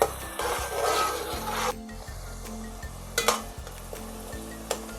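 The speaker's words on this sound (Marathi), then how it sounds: "तेलामध्ये 1 मिनिट शिजवून घेऊया." Pomfret fish with masala frying in hot oil, a loud scraping sizzle at first that settles into a quieter hiss with occasional stirring knocks, over soft background music.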